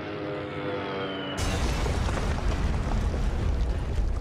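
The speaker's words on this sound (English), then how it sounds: "I'm playing with explosions." Explosions in the video game Sniper Elite 3: after a quiet tonal lull, a sudden loud blast breaks in and becomes a dense, sustained rumbling roar with crackling debris that carries on to the end.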